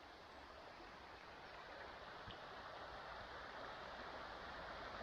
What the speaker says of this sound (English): sound of that creek rippling across these rocks is right relaxing